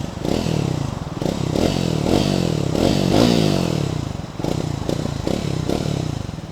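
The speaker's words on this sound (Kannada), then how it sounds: "ನಿಮ್ಮದು ಎಕ್ಸಾಸ್ಟ್ ನೋಟ್ ಕೇಳಿಸ್ತೀನಿ ನೋಡಿ." A Triumph Thruxton 400 motorcycle's exhaust note: a loud, close engine idling and blipped through several throttle revs, with rhythmic pulsing and mechanical clatter rising and falling across the stretch, no talking.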